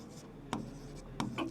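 Pen strokes on paper while notes are written by hand, a few short scratchy bursts spaced about half a second apart, close and quiet, with no talking.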